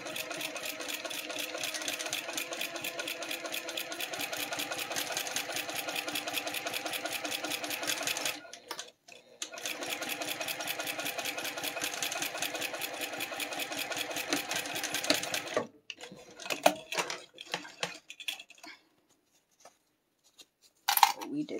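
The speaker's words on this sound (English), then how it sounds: "I'm gonna go back and edge stitch along these two sides." A sewing machine edge stitching along the sides of fabric runs in long steady rapid bursts, close and loud, pausing briefly between passes before short stop-start stitches near the end; a voice speaks occasionally.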